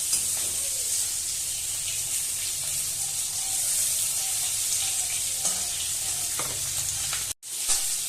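Koi fish frying in hot oil on a gas stove, a steady loud sizzle and hiss throughout with occasional stirring clinks and a brief break near the end.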